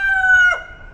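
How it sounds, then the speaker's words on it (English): A backyard rooster crows once nearby, a loud, clear, strained note held for about half a second before breaking off. "that's the rooster"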